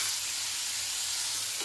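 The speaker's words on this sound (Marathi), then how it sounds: "आता मीडियम टू लो गॅसवर हे छान भाजून घ्यायचे" Tomatoes and dal roasting in a pan over a medium-low gas flame give a steady, soft sizzle that stays even and fairly quiet throughout, with no talking.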